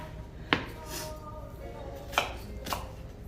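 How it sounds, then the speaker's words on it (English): A knife chops on a board in three sharp, separate thwacks spaced unevenly over a quiet kitchen background. "So I'm chopping my onions now."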